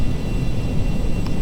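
A Cessna Citation CJ2 business jet lifts off the runway on takeoff in the Prepar3D flight simulator, its engines a steady, loud broadband roar with no talking.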